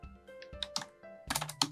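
Someone types text on a computer keyboard, producing a quick, close series of crisp key clicks and taps over a couple of seconds.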